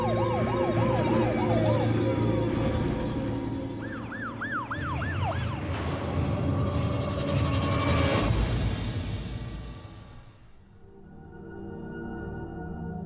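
An ambulance siren wails in a rising and falling pattern, loud and nearby, over the rumble of road traffic before fading away.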